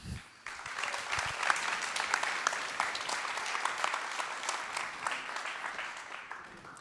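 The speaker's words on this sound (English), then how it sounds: "big applause" Applause from the audience at an AI Monday tech meetup in Berlin, a steady, moderately distant patter of many hands clapping that starts abruptly and carries on for several seconds before gently thinning out.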